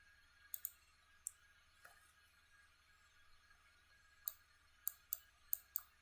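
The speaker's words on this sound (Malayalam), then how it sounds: "അപ്പോൾ അത് നമുക്കൊന്ന് ടൈപ്പ് ചെയ്ത് കൊടുക്കാം" Typing on a computer keyboard in a quiet room: faint, sparse key clicks come singly and in short bursts, with pauses between them.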